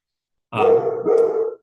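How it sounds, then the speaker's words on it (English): A dog barks and growls in two quick, rough bursts in the background of an online training session on energy distribution planning, with no talk over it. "my dog is going crazy in the background"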